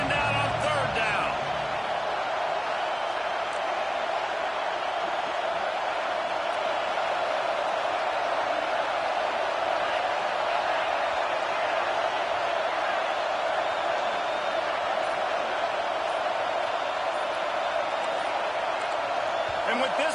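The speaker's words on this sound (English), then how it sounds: "the crowd forces a false start" A loud, sustained crowd roar fills a football stadium on third down. The dense wall of cheering runs unbroken throughout, with a commentator talking over it.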